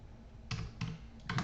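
Keys tapped on a computer keyboard in a few quick bursts, with close, fairly quiet clicks and short gaps between them.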